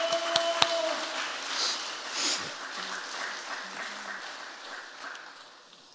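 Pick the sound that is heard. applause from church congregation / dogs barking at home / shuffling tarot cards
applause from church congregation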